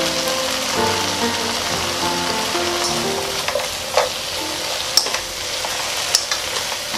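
Chopped onion goes into a pan of dried eggplant that has simmered down nearly dry, bringing a steady sizzle and scattered spatula taps and scrapes that grow sharper toward the end.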